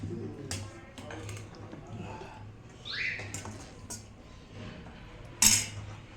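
Food being served onto plates at a home lunch, with repeated clinks and scrapes of a serving spoon against plates and dishes, close by, ending in a sharper clatter.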